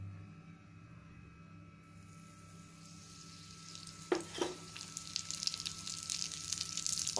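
Large eggplant slices coated in semolina begin frying in oil on a flat griddle. After a quiet start with low hum, a sharp burst of sizzling erupts and settles into steady crackling and spitting.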